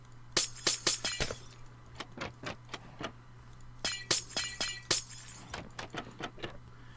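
Blocks being broken in Minecraft, a rapid series of sharp glassy cracks and clinks in quick bursts, with pauses between clusters and a steady low hum underneath.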